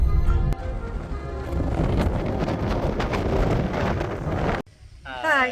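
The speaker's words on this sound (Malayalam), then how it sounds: "നല്ല കാറ്റ്" Strong gusty wind at the seashore at Pullu buffeting the microphone in a steady low roar, briefly dropping near the end as a voice speaks faintly.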